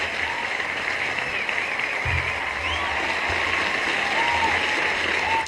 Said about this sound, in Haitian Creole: Bat bravo pour la jeunesse.